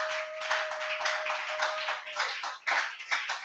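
Congregation applause at a church service, dense sustained clapping from many hands filling the space, steady and moderately loud throughout.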